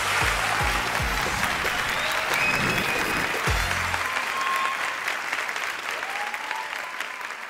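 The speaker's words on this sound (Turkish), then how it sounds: "Hep birlikte izliyoruz alkışlarınızla." Studio audience applauding at a Turkish televised comedy show before a fortune-teller sketch, dense sustained clapping throughout with a few low thumps early on, fading slightly toward the end.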